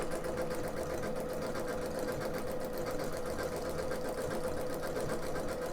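A sewing machine stitches out a single stitch pattern, running at a steady, continuous rapid mechanical rhythm close by with no pauses.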